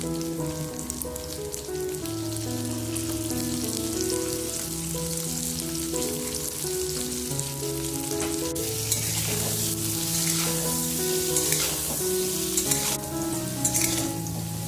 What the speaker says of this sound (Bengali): তেল গরম করে আমি আলুগুলো প্রথমে ভেজে নেব।